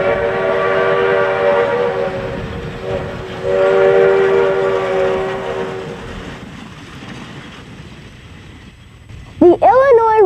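Heavy rumbling of a steam locomotive with a sustained whistle blast for several seconds, fading to rolling noise, then a short sharp whistle near the end.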